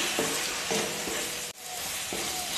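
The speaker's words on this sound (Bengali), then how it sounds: "সব মিশিয়ে 2 মিনিট মতন ভেজে নেব।" Ground coriander and chilli powder frying in a pan for a fish curry with cauliflower, giving a steady bright sizzle and a few soft stirring strokes, close and continuous, with no talking.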